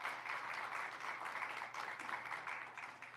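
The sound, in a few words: audience applause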